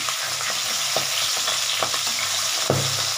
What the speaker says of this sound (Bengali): এইভাবে প্রত্যেকটা মাছ ভাজতে থাকবে